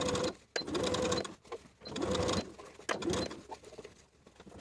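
A sewing machine understitches a dress armhole facing to the seam allowance at about an eighth-inch seam. It runs close and loud in several short, even bursts separated by brief pauses.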